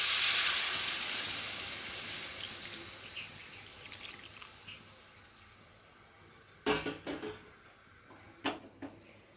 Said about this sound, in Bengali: আর এখন আমি এই যে গরম জলটা দিয়ে ফুটিয়ে নেওয়ার